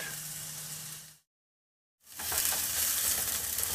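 Onions sautéing in a pan over nearly high heat, a steady broadband sizzle that cuts out to silence for about a second midway, then resumes louder and crackling with light stirring.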